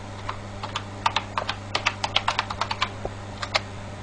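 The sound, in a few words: typing on a computer keyboard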